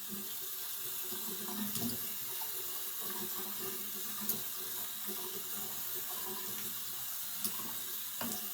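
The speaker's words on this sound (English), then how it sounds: "So you just rinse it off." Water from a tap runs steadily for several seconds to rinse body scrub off skin, a close, even splashing flow with a few brief knocks and drips, no voices.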